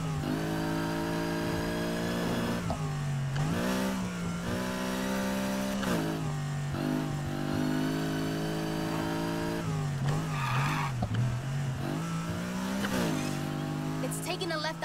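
A car's engine in Need for Speed Heat drones and revs steadily, its pitch dipping and rising with gear changes and throttle, while voices talk over it; no clear tire squeal stands out.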